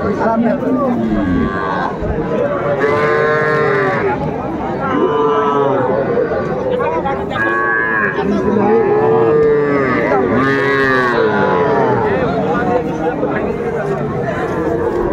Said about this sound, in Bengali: দেখছিলাম যে গরুগুলো কিনছেন শাহাবুর ভাই